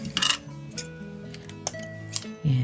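Beading wire for a beaded prism snowman Christmas ornament is cut, giving a few sharp, brief snips and clicks spaced out against a quiet background.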